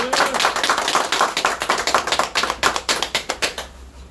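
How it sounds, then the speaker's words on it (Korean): Applause from a room of party officials at a political meeting in new headquarters, a dense burst of clapping that thins into scattered, distinct hand claps toward the end. "우리 영등포 당사 시대를 자축하는 의미에서 큰 박수 한번 칩시다"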